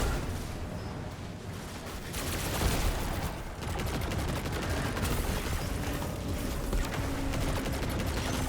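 Relentless machine gun fire in the video game Destiny 2 rattles rapidly and loudly throughout, a dense continuous volley with only a brief dip midway.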